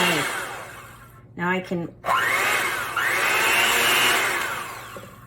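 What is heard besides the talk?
electric mixer with beaters blending cream cheese Kool-Aid pie filling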